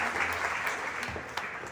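A church congregation at a prosperity retreat applauds, with a steady wash of many hands clapping together, fairly loud and sustained, and a few sharper individual claps standing out.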